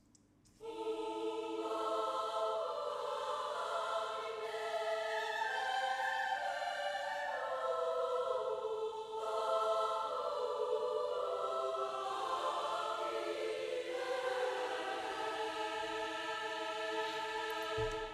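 A choir sings a sustained harmonized melody over orchestral backing, lower voices moving beneath the upper line, full and steady throughout.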